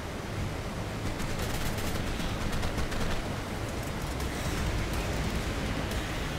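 Gunfire in the video game Ark aimed at a bat, a dense continuous burst of rapid shots buried in a broad, steady wash of noise that lasts the whole stretch.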